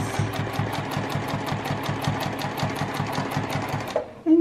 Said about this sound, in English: And so we just stitch around, following that.